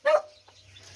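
A puppy gives one sharp, close bark, followed by fainter whimpering and light yips as the sound trails off.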